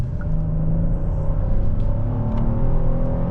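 A 2026 Hyundai Palisade Calligraphy on a test drive, giving a steady low engine and road rumble from inside the cabin, smooth and constant throughout with no talking.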